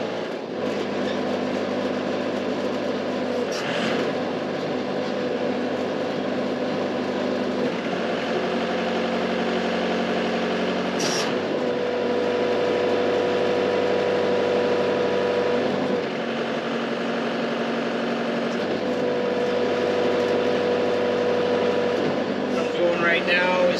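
A Case 580 SE backhoe engine runs steadily at raised RPM, a continuous loud drone with a constant tone that swells slightly around the middle and stays close throughout.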